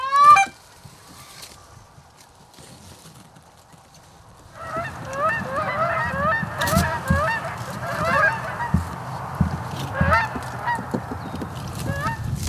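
A flock of geese honks loudly and continuously at a Maryland goose hunt, building from a few scattered calls to a dense, overlapping chorus close by.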